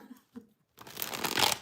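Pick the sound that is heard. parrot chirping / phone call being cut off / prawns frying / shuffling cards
shuffling cards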